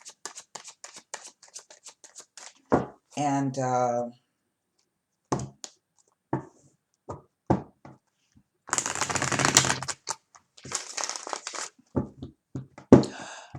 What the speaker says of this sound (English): I'm going to go ahead and do a bit more shuffling.